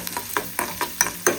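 Onions fry in a pan with a close, crackling sizzle, broken by several quick scraping stirs of a spoon in an uneven rhythm.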